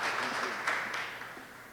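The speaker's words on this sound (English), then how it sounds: "let's give him a round of applause" A short burst of crowd applause at a literacy campaign launch, fairly faint, tapering off toward the end.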